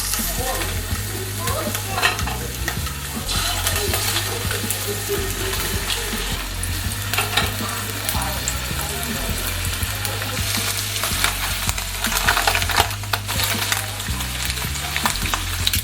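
Duck breast laid skin side down in about two tablespoons of butter sizzles and crackles steadily up close, with occasional stirring and clatter from the pan and no talking.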